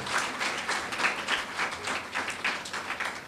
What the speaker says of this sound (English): Porter a big round of applause.